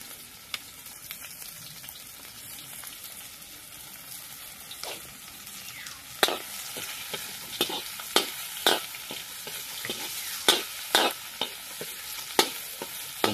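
Garlic and then onion sautéing in a pan for pork intestine adobo, a soft steady sizzle with repeated sharp scraping and stirring clicks from a utensil, moderately close, no talking.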